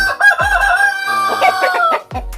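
A rooster crows loudly and close, its call stretched over a second or more, while chickens cluck around it.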